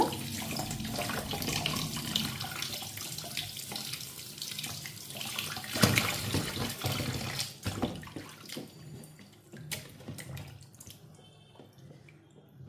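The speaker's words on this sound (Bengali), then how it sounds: "মাছগুলো কাটা হয়ে গেছে, এখন ভালো করে ধুয়ে নেব।" Cut prawns are washed under a running tap, a steady splash and gurgle of water into a sink with scattered drips and clatters, close and moderately loud, easing off near the end.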